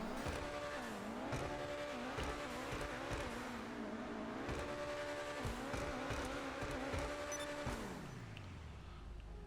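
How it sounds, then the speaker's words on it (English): Obey 10F Widebody supercar in GTA Online revving hard: the engine climbs and drops through several sharp rises in pitch, loud and near, with brief tire squeal and a fading rev at the end. "Sounds very nice, definitely sounds like a supercar."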